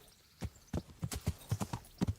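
Horse hooves clip-clop in the medieval video game Kingdom Come: Deliverance, a steady run of crisp, evenly spaced hoofbeats at a trot, moderately loud and close with no talking over them.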